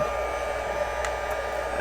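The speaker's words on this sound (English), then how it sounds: "we're going to heat emboss both of these" A heat gun blows a steady, close, whirring stream of hot air to melt embossing powder on handmade craft pieces, droning evenly throughout.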